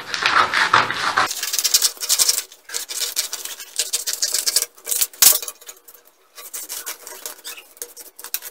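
Scissors snip through blouse fabric along a drafted princess-cut pattern, giving a run of short, close crisp cuts and rustles with brief pauses.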